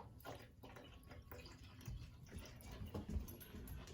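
Water is poured from a tap into the tank of a Hoover Power Scrub Elite carpet cleaner, a faint, quiet splashing and trickling with irregular gurgles and bumps, no speech.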